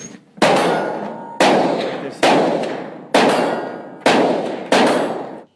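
An AK-47 Kalashnikov fires six single shots at a shooting range, each a loud, sharp crack with a long ringing decay, spaced roughly a second apart.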